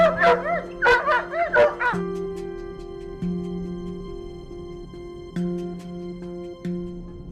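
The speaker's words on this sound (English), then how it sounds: "hunters use loud noises like the barking of hunting dogs" Hunting dogs barking and yipping in a quick burst, then whimpering and whining over a steady droning tone, fairly close and loud.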